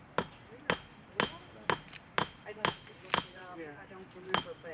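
Metal armor plate is hammered on an anvil with about nine sharp, ringing strikes in an uneven rhythm, close and fairly loud, and some quiet talk is heard between the blows.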